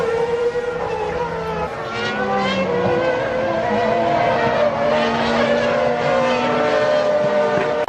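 Formula 1 race car spinning on track during a race: loud, continuous engine whine with shifting pitch and sliding tyre noise, heard with race commentary voices underneath.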